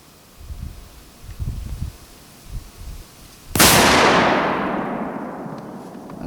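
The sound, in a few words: rifle gunshot at target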